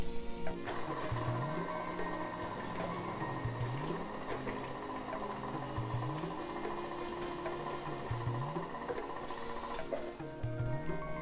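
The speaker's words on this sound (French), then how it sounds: "nous allons les incorporer au reste de la pâte en mélangeant" Pecans and blond chocolate being folded into banana-oat cake batter, a steady low mechanical whir with a soft rhythmic churning that repeats about every two seconds, running continuously without talk.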